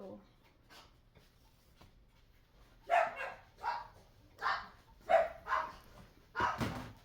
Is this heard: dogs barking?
yes